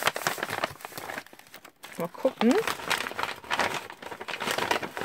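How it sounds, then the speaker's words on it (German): Gift wrapping paper crinkling and tearing open up close, in irregular rustling bursts and rips, with a person talking quietly between the sounds. "Ja, ich muss es leider ein bisschen kaputt machen, das Papier."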